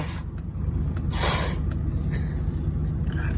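A person sniffs and snorts through a congested nose. One strong, breathy snort stands out near the middle of a low, steady background rumble.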